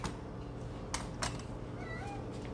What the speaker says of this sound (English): I've got an angry kitty cat to feed here. What else? She's whining.